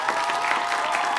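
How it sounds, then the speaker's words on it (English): Applause from a school quiz competition audience, cheering both high school teams, Cypress Bay and Western, a steady brief patter of clapping with some crowd noise. "So big round of applause for both schools."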